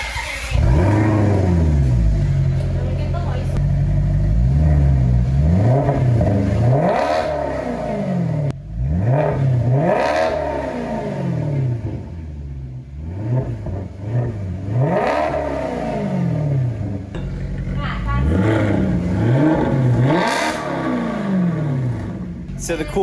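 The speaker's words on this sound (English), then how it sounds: "But I think you guys want to hear it now, so let's start the car" Maserati GranTurismo V8 with an Urutu X-pipe exhaust, starting up and then revving repeatedly in loud, rising and falling sweeps at close range, the raspy engine note dominating throughout.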